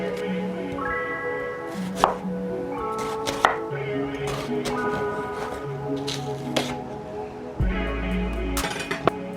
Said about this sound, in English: we're just going to chop up our onion